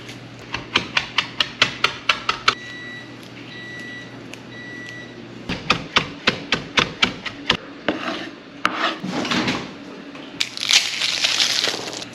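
A knife crushes fresh rosemary on a board in quick runs of sharp, rhythmic taps and crunches, pausing between bursts, followed by softer rubbing and scraping, with a faint steady hum underneath.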